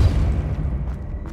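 The Depulso spell from the Hogwarts Legacy video game goes off with a single short, booming burst that fades quickly, heard alone without any talk.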